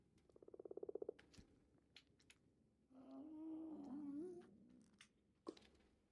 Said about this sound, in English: The frog noise.